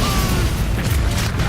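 Rockets fired by a Soldier in Team Fortress 2 give a dense, continuous run of booming low bursts amid loud game chaos, with no clear single shots standing out.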